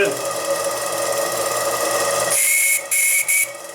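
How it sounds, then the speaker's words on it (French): A steady hiss of escaping steam runs under the shrill whistle of a live steam model engine, which then sounds in several short, piercing blasts separated by brief gaps. "le sifflet fonctionne correctement, puis la machine bouge"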